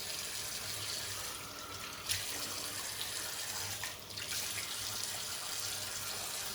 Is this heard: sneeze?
no